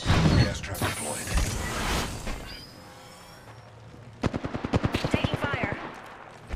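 Automatic gunfire in Apex Legends, a rapid burst of sharp shots near the end following a busy stretch of blasts and game effects, loud and close, with a voice speaking over the earlier part.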